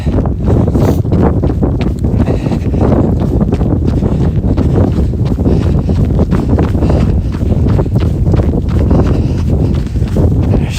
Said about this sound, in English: now we're going into the headwind, so it'll be noisy